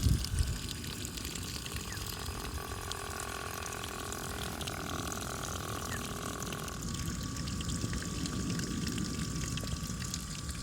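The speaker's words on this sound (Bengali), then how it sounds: "এখানে দেখতেই পাচ্ছেন আমাদের পাম্পটি কিন্তু বেশ ভালোভাবেই কাজ করছে" A homemade mini water pump pushes a steady stream of water that splashes and trickles continuously, with a faint tonal whine from the pump motor partway through.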